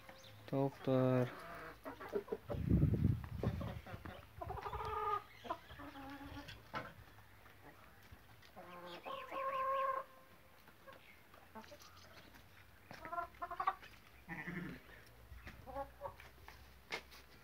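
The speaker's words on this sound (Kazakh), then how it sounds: "Тауықтар." Chickens in a covered backyard coop cluck in short, irregular bursts, close and moderately loud, with intermittent low rustling and handling noise between calls.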